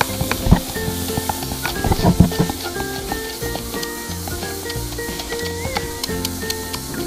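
A mixture of baking soda and water bubbles and fizzes close by with a steady sizzling hiss, dotted with small pops and a few stirring clatters.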